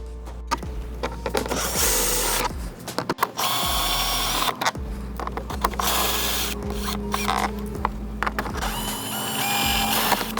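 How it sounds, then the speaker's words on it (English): A power tool whirs in repeated short bursts while backing Torx T30 bolts out of a 2021 Ford Bronco door, with clicks and handling clatter between runs, close and loud. "the first step is take these 6 torque 30 bolts out"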